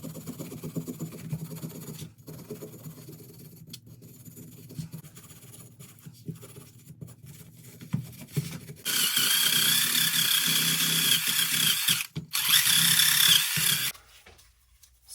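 A wire brush scrubs a disassembled Mazda 3 rear brake caliper, starting as quiet scratchy rubbing and then turning into loud, dense back-and-forth bristle scouring for several seconds, with short pauses between strokes.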